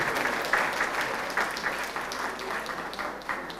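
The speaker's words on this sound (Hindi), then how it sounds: "सब लोग तालियों की गड़गड़ाहट से इनका स्वागत कीजिए।" An audience at a Guru Purnima gathering breaks into sustained applause to welcome a named attendee, a broad even wash of many hands clapping throughout.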